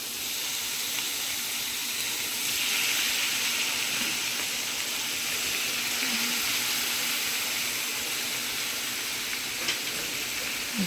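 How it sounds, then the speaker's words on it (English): Shrimp dropped into hot oil in a pan for shrimp fried rice, giving a steady broadband sizzle and hiss throughout, close and fairly even with small pops, no talking. "So we're gonna fry now the shrimp."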